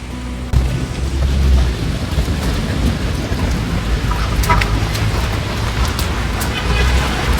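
Steady heavy rain pours down in the Manila area with a low rolling rumble of thunder, loud and continuous throughout, while a few faint bird calls and occasional voices sit underneath.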